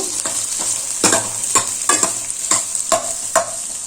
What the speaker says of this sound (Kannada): ಈರುಳ್ಳಿ ಎಣ್ಣೆಯಲ್ಲಿ ಚೆನ್ನಾಗಿ ಫ್ರೈ ಆಗಬೇಕು